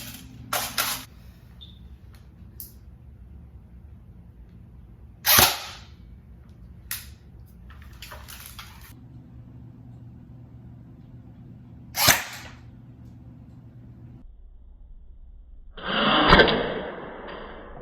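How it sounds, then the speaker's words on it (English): An electric M4 airsoft rifle fires plastic BBs at a candle as a few sharp, isolated cracks spaced seconds apart over a low background hum, ending in a longer noisy burst. "we do have this M4 here. Also shooting plastic BBs, but this one is electronic."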